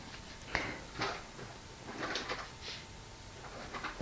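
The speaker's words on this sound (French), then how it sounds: "le bruit que vous entendez, c'est encore le chat" Soft knocks and scrapes of a cat shifting around inside a drawer, a few scattered thumps and rustles at low volume, no talking.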